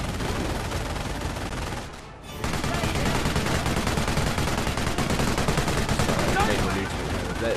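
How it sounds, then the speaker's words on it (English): Sustained automatic machine-gun fire from a British squad in a Company of Heroes real-time strategy battle, dense rapid bursts broken by a brief lull near two seconds, then loud continuous fire with a voice talking underneath. "the machine gun is British"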